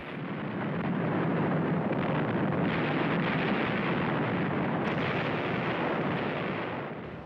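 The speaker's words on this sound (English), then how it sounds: "The largest invasion fleet since the Second World War bombards the port of Incheon." Naval guns of a large invasion fleet bombard the port of Incheon at dawn in September 1950, a continuous, dense roar of distant artillery rumbling steadily for several seconds with no speech.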